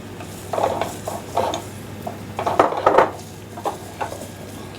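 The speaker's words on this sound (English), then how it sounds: "Give that a stir." Onions stirred in a pot with a utensil, several close scraping and clattering strokes in uneven bursts with short pauses between them, no voices.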